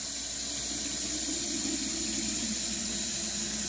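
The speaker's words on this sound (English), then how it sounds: "Then you fill the jar up to how much ever brine you think you're going to need." Brine pours steadily into a jar for homemade sauerkraut, a constant close splashing rush of liquid with no pauses or voices.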